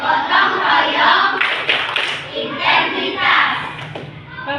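Classroom of young schoolchildren chanting the Tepuk PPK clapping chant, their voices loud and close with claps woven rhythmically through the chorus.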